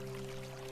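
Water from a nearby flowing river at a sunny outdoor spot, heard as a steady, soft, continuous rush with a faint constant hum beneath it and no voices.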